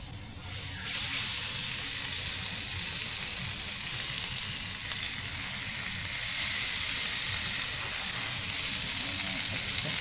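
Food sizzles and hisses steadily on a KickAss Quickfire 600W portable electric BBQ, a loud continuous fry that starts about a second in and keeps going with no talking over it.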